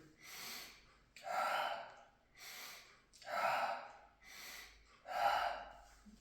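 Deep diaphragmatic breathing demonstrated close up, alternating slow inhales and exhales in six long rushing breaths at an even rhythm, quiet and unaccompanied.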